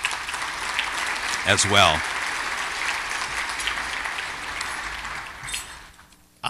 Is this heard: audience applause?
yes